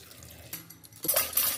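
Water being added to a cooking pot while preparing split chickpea dal with pumpkin in a pressure cooker: a brief clatter of metal utensils, then a short splashing pour that grows louder near the end, close to the microphone.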